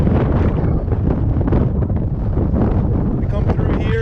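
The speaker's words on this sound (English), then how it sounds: "So it's a little windy, so I hope it's not too bad" Strong wind buffets the microphone on a ship's deck, a continuous loud roaring gust with a few faint knocks near the end.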